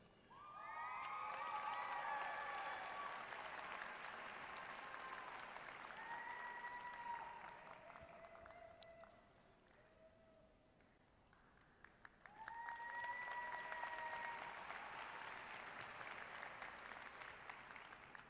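Applause and cheering from a commencement crowd for doctoral graduates at a Texas State University ceremony, fairly distant and soft, with whistles and shouts over the clapping, fading mid-way before swelling again.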